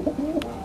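An Iranian pigeon coos in a few soft, rounded notes at close range, with a brief higher rustle near the end and no voices.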